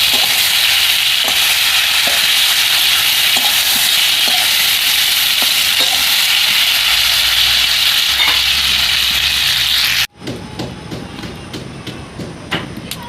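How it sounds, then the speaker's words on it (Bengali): Mango pieces frying with blackened chilies in a pan, a loud steady sizzle with occasional stirring scrapes, then a sudden drop near the end to softer crackling and clinks. "এই সময় যে আমি আমগুলো দিয়ে দেবো, অল্প একটু নেড়ে করে নেব"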